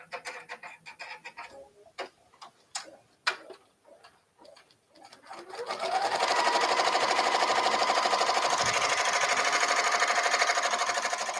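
A sewing machine tacking down material while packing craft orders: a few irregular clicks and taps at first, then the motor starts and runs in a steady, loud, even whir of stitching.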